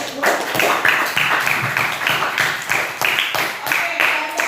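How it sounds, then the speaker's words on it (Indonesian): A classroom group claps together in a quick, uneven patter of hands, a close burst of applause lasting several seconds with a voice over it. "Oke, beri tepukan untuk kelompok 2."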